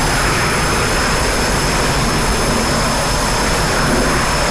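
An MB399 aircraft engine in the DCS flight simulator roars loudly and steadily as power is raised, a dense continuous jet whine with a constant high-pitched tone running throughout.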